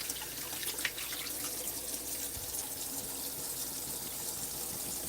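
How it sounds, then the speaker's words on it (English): Tap water runs steadily into a kitchen sink as a hand is rinsed off after handling sugar while making fry bread, a continuous close splashing stream with no talk. "I'm going to rinse my hand off."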